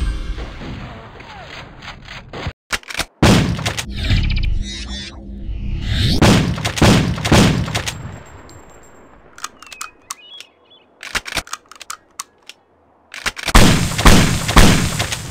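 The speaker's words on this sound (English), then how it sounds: "The quad barrel mod descends from the multiplayer only Rage Wars and lets you chamber up to 4 shots ready for one big punch" A quad barrel shotgun from a video game firing several heavy, booming shots in separate bursts, each a loud broadband blast with short reverberant tails, separated by quieter gaps and mechanical clicks.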